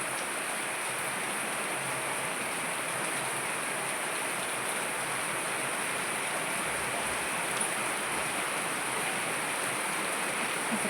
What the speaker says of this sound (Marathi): गावाला नाले लय जोरात पाऊस पडते पाऊस पडते आणि घर आमचं गळते